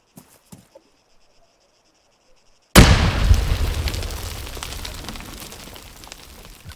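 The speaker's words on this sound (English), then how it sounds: "I'm going to lob a grenade at myself." A grenade in the game Arma 3 goes off as one sudden loud blast after a couple of seconds of near silence and a few small clicks, then a long decaying rumble and crackling debris patter.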